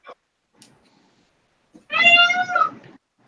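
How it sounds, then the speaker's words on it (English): A peacock gives a single loud, nasal, cat-like wail lasting under a second, heard nearby after a couple of faint clicks in an otherwise quiet room. "I hear an honored cat. It's actually a peacock."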